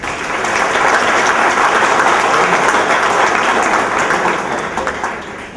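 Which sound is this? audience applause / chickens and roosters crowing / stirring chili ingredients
audience applause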